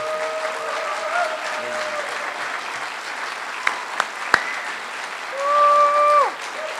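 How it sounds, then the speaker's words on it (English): Sustained audience applause and cheering fill a conference talk hall, steady and loud throughout, with a few sharp claps and a rising electronic tone near the end. "Okay, now you can all clap."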